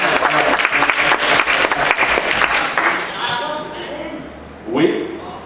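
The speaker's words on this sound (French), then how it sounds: "Je croyais qu'on allait acclamer." A church congregation breaks into loud, dense applause that runs steadily for about three seconds, then fades out, followed by a short burst of voices.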